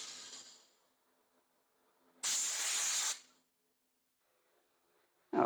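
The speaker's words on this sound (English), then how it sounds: "we're going to go ahead and go blow this carburetor out" Compressed air blasting through a lawn mower carburetor, one sharp hissing burst of about a second set between quieter stretches, close and loud, with a brief start of another blast at the end.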